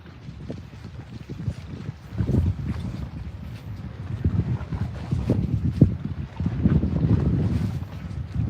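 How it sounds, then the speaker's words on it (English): Strong gusts buffet a microphone outdoors in Mandeville, Louisiana, producing a continuous low roaring rumble that swells and surges after the first couple of seconds, with no talking. "It's super windy out here, so I apologize if the audio's"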